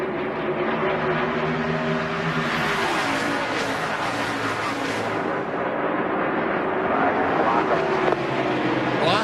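NASCAR stock cars roar past on the track at the 2001 Pork The Other White Meat 400, with a dense, continuous engine drone that swells and shifts as cars pass close by.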